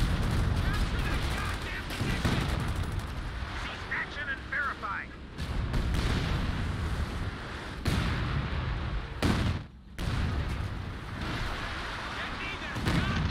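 Video game gunfire in a team match, repeated shots and bursts aimed at the player, loud and dense across the whole stretch with brief gaps, while players talk over the action.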